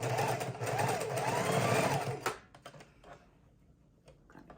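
A sewing machine stitching the corner of a junk journal, a loud fast whirring run of stitches that stops abruptly, followed by quiet clicks and handling sounds as the fabric is pivoted.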